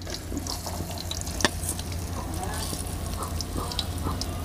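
Meal maker chunks fry in hot oil with a continuous soft sizzle and crackle, a sharp clack near the midpoint, and a voice talking over it.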